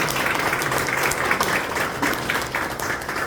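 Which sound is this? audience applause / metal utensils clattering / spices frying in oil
audience applause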